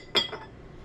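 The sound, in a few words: seasonings being mixed together in a bowl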